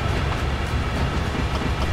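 A train runs in Train Sim World 4, a dense, continuous rumble of wheels on rail with faint clickety-clack, steady and close.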